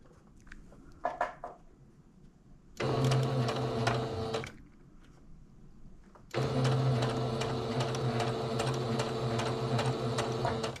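A sewing machine stitching a quilt binding seam, running in two steady mechanical bursts of rapid needle chatter, the second longer, with quiet handling of fabric in the pause between them.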